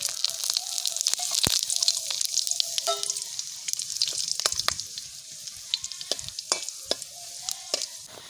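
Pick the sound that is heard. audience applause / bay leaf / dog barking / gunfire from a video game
bay leaf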